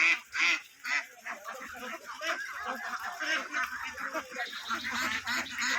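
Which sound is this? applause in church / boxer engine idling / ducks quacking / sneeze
ducks quacking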